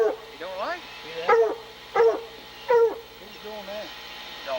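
A dog barks in short bursts, four or five loud, close yelping barks with whiny pitch bends and brief gaps between them, heard outdoors during a December bear hunt.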